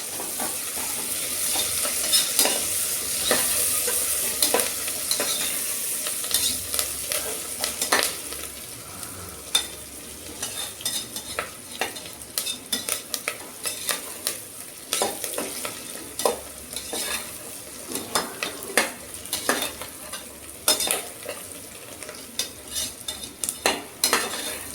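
Spices, curry leaves and coriander are tempered in a hot pan, a steady close sizzle with frequent scraping of a metal spoon stirring and knocking against the pan.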